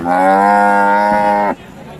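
A single long, loud moo from a Friesian cow at a cattle market, with a steady, harmonic tone lasting about a second and a half, then it cuts off into quiet background.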